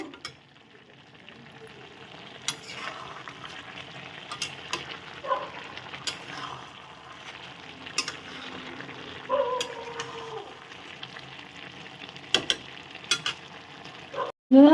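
Coriander leaves and green peas stirred in a cooking pan for a Bengali pui stem curry, with a soft steady sizzle and scattered scraping clinks of the spoon throughout, ending in a louder clatter.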